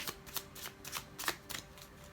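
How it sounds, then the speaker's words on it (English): A deck of tarot cards being shuffled by hand in a quiet room, with about seven crisp riffling bursts in an uneven rhythm, close and moderately loud, with no talking over them. "One more shuffle."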